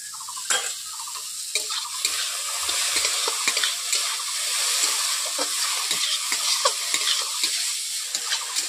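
Sliced okra fries in a pan with dried chili powder, a steady close sizzle with repeated scraping stirs of a spatula throughout.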